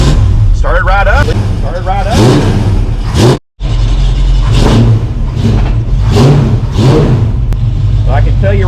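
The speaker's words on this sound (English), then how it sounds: "let's see what the little 289 says here. Hey, look at that. Pretty good. Started right up." A 1966 Ford Mustang's 289 V8 starts and revs, giving a loud, close, rumbling idle with rising and falling throttle bursts and a brief cut in the sound; someone talks over the engine.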